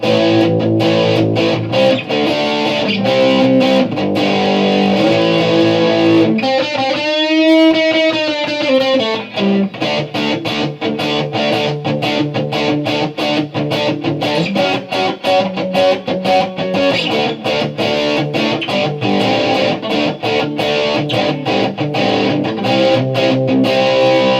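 Heavily distorted electric guitar through a Boss Katana Air amplifier plays continuously and loudly, with a sweeping, warbling effect midway through the riff.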